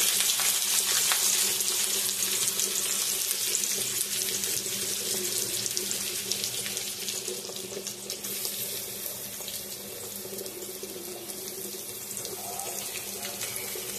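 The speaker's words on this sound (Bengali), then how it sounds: "পেঁয়াজটা ভাজা ভাজা করে নেবে" Chopped onions frying in a kadai after whole garam masala, a dense, steady hiss of sizzling oil that holds close and loud throughout, slightly easing over time, with no talking.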